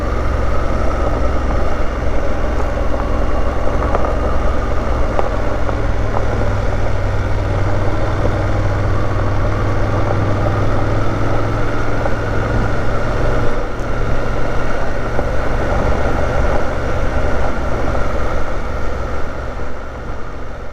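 BMW 750GS motorcycle being ridden on a road along the Swedish Trans Euro Trail, a loud steady low engine drone blended with wind rush that holds constant throughout, no voices.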